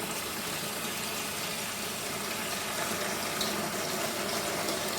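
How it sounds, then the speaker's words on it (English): Water runs steadily from a kitchen tap, a constant broadband rush that lasts the whole stretch at moderate loudness, with no voices over it. "Turn tap on to be warming up to wash my hands."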